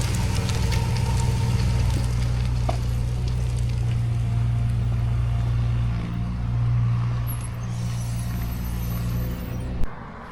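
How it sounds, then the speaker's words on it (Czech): A tractor drives far off on a road in the Åland Islands, a low steady engine rumble that holds through the whole stretch under broad outdoor noise, with no talk, ending in a brief thump. "A tamhle v dálce jede traktor"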